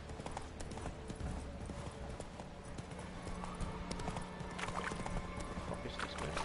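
Roach the horse from The Witcher gallops in a quick, steady clip-clop of hooves, close and continuous, with a faint whinny.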